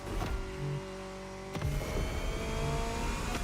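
Mid-engine Corvette in the racing game The Crew Motorfest, a fairly quiet steady engine tone with a sharp mechanical click or shift near the middle, then the motor carries on at low level with no talk.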